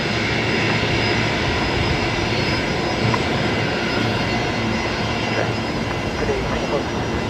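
A jet airliner, a Boeing 737 Max 8, roars steadily at Brisbane Airport as it lines up for a full-length departure, a loud, continuous broadband engine rumble filling the whole stretch.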